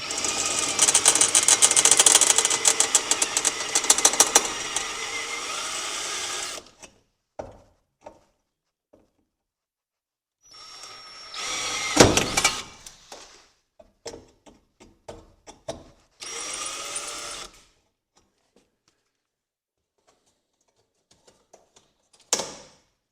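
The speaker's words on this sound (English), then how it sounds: "So I'll get these little rivets drilled out of here." A power drill drills out small rivets on the frame of a Challenger kit plane, with a long steady whine at the start followed by short bursts and isolated clicks separated by silences, close up.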